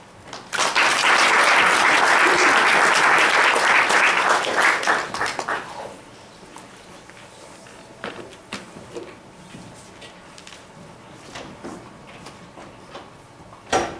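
Loud audience applause welcoming a speaker to the stage at a community health centers talk, sustained clapping for about five seconds, then dying away into quiet room noise with scattered faint knocks.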